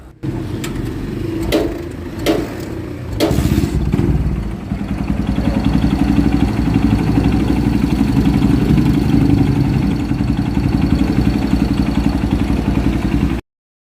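A Kawasaki Barako motorcycle engine starts with a few sharp clanks, then runs steadily at close range with a rough, rapid knocking clatter from a failing connecting rod beneath the idle.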